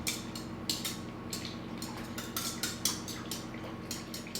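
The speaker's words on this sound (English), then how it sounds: "Now we're just going to beat this with a whisk" A whisk beats pretzel breadstick dough in a bowl, making quiet, steady metallic ticks and scrapes against the bowl in a regular rhythm, with no talking.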